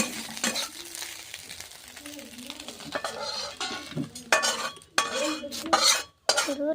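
A fish head fries in hot oil in a pan, giving a steady sizzle with occasional stirring scrapes and utensil clinks; the sizzle fades in short gaps toward the end.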